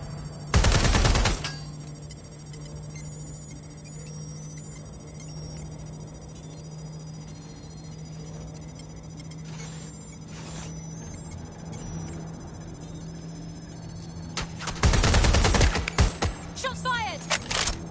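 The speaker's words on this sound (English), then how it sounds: "Shots fired!" Gunfire in a video game: a short burst of rapid shots, then a long stretch of steady low hum, then a second loud cluster of shots near the end.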